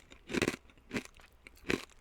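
Bar-B-Q Mac's BBQ-flavored pork rinds crunch loudly in close chewing, three distinct crisp bites spaced about a second apart with quiet pauses between.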